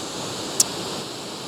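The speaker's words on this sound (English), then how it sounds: "Here's a waterfall." A waterfall along Oregon's waterfall highway gives a steady, full rushing roar, close and constant, with one tiny sharp click partway through.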